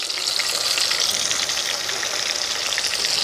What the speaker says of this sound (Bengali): তেলটা গরম হয়ে গেছে, এর মধ্যে আমি টমেটো কুচি দিয়ে দেবো।